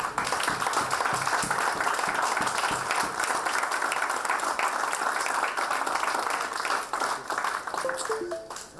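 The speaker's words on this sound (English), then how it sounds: "Please join me in welcoming Dr. Chandrasekhar with a round of applause" An audience at an orientation programme session gives sustained applause to welcome a guest to the dais, with dense, steady clapping throughout and brief tonal chimes near the end.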